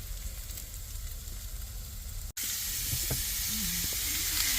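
Steak frying in a pan with onions, crushed jalapeno pepper and fresh garlic inside a van, a steady close hiss that breaks off for an instant, then returns louder and brighter with faint scraping and stirring.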